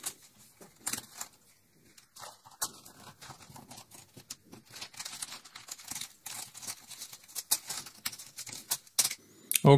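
Typing C++ code for a ROS subscriber on a computer keyboard: a steady patter of quick clicky keystrokes with short pauses, fairly close and moderately loud, with no talking.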